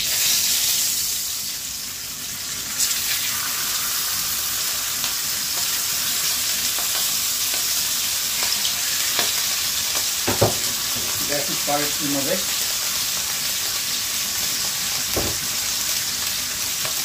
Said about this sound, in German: So, die Kotelette mal schön anbraten.